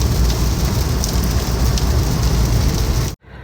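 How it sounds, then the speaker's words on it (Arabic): Heavy rain pours steadily during a thunderstorm on the coastal road near Al-Lith, a loud, dense hiss that runs unbroken before cutting off abruptly near the end. "أمطار خير وبركة، نسأل الله أن يغيث البلاد والعباد"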